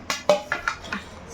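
A spoon clinks against a dish while fish and prawns are being cooked, a handful of light bright taps spaced irregularly, close and fairly soft, with no talk.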